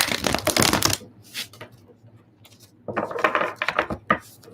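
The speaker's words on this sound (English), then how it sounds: "Shuffle 2 more times and then go from there." A deck of tarot cards being shuffled by hand, two dense riffling bursts close up separated by a brief pause and some handling noise.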